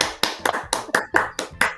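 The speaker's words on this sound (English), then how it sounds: "Y'all hear that whole clap?" Eight crisp hand claps in an even rhythm, close and loud, each a sharp isolated smack with quiet gaps between.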